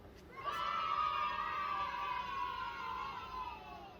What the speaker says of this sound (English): And then cheering.